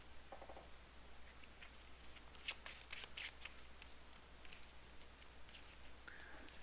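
Cards from an Arkham Horror card game deck being shuffled: soft riffling and a short burst of crisp card flicks in the middle, quiet and close, with no talking.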